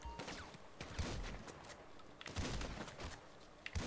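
Repeated bursts of gunfire in GTA 5 with a zombie mod, rattling fast and dense across the whole stretch, with heavier thumps standing out now and then.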